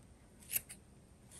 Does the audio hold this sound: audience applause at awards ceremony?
no